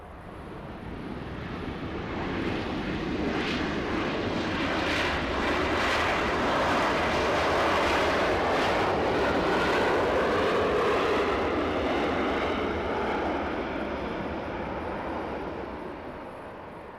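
A Boeing 737-700 Next Generation touching down on runway 24 right in Los Angeles, its jet roar swelling from a distance to a loud, broad rush and then slowly fading, with no talking.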